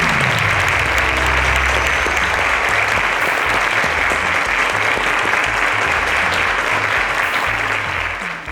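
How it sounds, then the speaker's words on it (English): Sustained studio audience applause on the quiz show Cowbellpedia, teachers edition. Dense, continuous clapping stays loud and even for over eight seconds. A voice is heard briefly at the start, and the applause tapers slightly at the end. "Round of applause for them."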